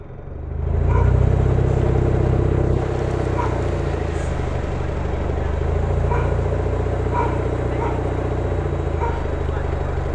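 A Mazda engine idles with a low battery while its leading ignition timing is retarded, producing a loud, steady, close drone that rises when it catches and then holds an even, slightly rough rumble throughout.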